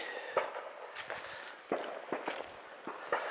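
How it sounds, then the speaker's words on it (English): Faint sharp cracks pop sporadically in the distance over quiet outdoor autumn ambience near a motte and bailey, several irregular reports like far-off gunshots. "Sounds like somebody's out shooting today."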